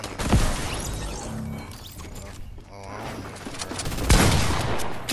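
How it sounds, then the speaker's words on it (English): Shotgun fire in the Fortnite video game: two loud, close blasts, one near the start and one near the end, with a rattling, clattering mix of game noise between them. "Him and a daggone shotgun."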